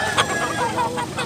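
A six-month-old rooster in Consolacion, north Cebu, calls out in a short, fairly faint crow, with outdoor background noise behind it.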